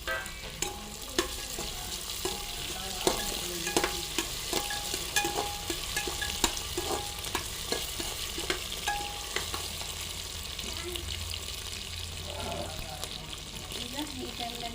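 Potatoes fry in a pan with a dense continuous sizzle and frequent scraping stirs and clinks, close and steady, with some background noise underneath.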